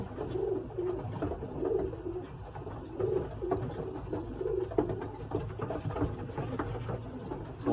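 Pigeons in a loft of young racing birds coo steadily and close by, soft overlapping calls with faint fluttering and shuffling throughout.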